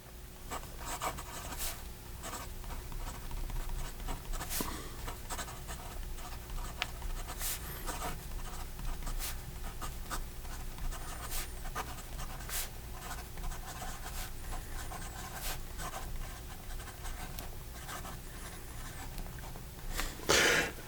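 A Pilot Justus 95 fountain pen scratches softly across paper in steady, continuous strokes, faint and close, with small taps and pauses between words.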